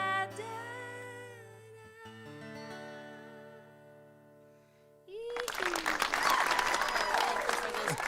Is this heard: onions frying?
no